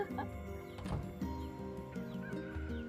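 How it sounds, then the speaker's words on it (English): Chickens cluck close by outdoors in a steady, overlapping chatter, with a sharper call standing out near the middle. "I'm trying to find a spot where you guys won't hear chickens"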